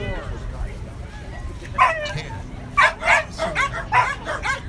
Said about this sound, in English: Carol has got herself a 12-year-old Jack Russell Terrier.